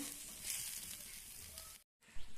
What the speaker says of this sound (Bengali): আবারও কিছু সময় নেড়ে চেড়ে নেব।